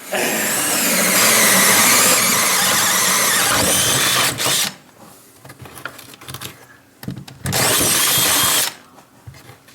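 A power drill whines loudly in two long bursts, boring holes for a propane installation, separated by quieter knocking and handling noises.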